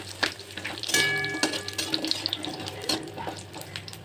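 Bori lentil dumplings fry with bay leaf in hot oil for Bengali sukto, giving a close crackling sizzle with scattered sharp pops and one louder burst early on.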